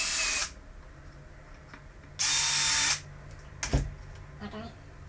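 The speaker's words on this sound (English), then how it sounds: "get my drill, make sure it's tight everywhere" A power drill drives screws to tighten a bathroom cabinet during installation, two short loud whirring bursts with a quiet gap between them, followed by a few faint knocks and handling sounds.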